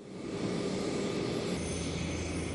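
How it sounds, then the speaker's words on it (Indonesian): An ITA Airways Airbus A330 commercial passenger jet arriving at Soekarno-Hatta airport, a broad, steady engine roar that swells and holds loud throughout, with no talk over it. "Paus Fransiskus beserta rombongan tiba di Terminal VVIP Bandara Suta dengan pesawat komersil ITA Airways Z400 berbendera Vatikan dan Indonesia"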